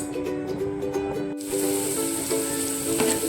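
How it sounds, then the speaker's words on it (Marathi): Chhole masala gravy fries in hot oil with a loud, close sizzle. A softer hiss suddenly jumps into a bright, dense crackle that keeps going steadily. "1 मिनिट तेलामध्ये परतून घ्यायची, तेल सुटेपर्यंत थोडी शिजवून घ्यायची।"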